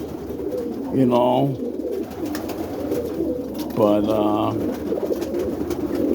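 Boston ripping roller pigeons give two drawn-out throaty coos a few seconds apart, nearby over a low background hum, with someone speaking briefly.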